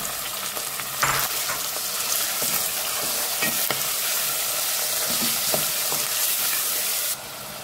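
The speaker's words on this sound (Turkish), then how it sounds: "Şimdi arkadaşlar kıymamı katıyorum tencereme." Minced meat and onions fry in a pot, with a continuous close, loud sizzle and occasional stirring scrapes and clinks that carry on steadily until the sizzle drops slightly near the end, with no talking.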